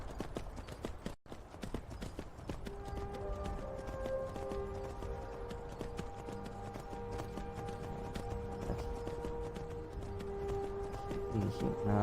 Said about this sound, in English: You're a Skyrim horse.